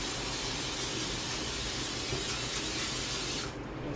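Close, continuous hissing of cooking spray coating a 9x9 pan, lasting a few seconds before cutting off abruptly near the end.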